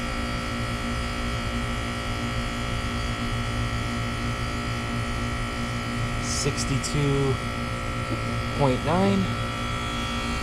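A Carrier mini split's replacement compressor runs with a steady, loud electrical hum and buzz throughout, and brief voices and a few clicks come in over it toward the end.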